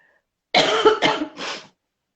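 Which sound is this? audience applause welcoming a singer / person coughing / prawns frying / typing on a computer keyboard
person coughing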